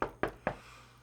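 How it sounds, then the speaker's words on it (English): Three sharp knocks on a door come in quick, even succession. Each knock is crisp and close, and a low hum continues underneath the knocks. "No doorbell this time. Oscar knocks."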